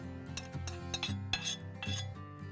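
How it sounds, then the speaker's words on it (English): Spoon scrapes against a dish while spreading apple puree over dough by an outdoor Morso wood-fired oven, in a series of close clinks and scraping strokes with uneven rhythm. "Spread that out with the back of the spoon."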